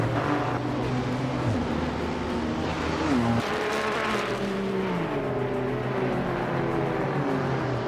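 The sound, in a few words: Ferrari 488 GTE race car engine in racing video game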